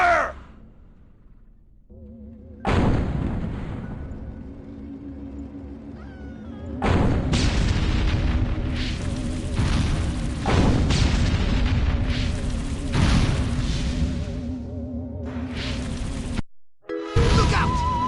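Gunfire and explosions erupt in the Destroy All Humans video game as an alien invader battles human soldiers, starting with a brief quiet stretch, then loud, dense, continuous bursts and booms with screeching game effects through most of the scene.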